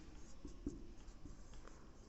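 Chalk or marker writing on a classroom board during an abstract algebra lecture, a quiet run of scratchy strokes and taps at close range with no talk over it.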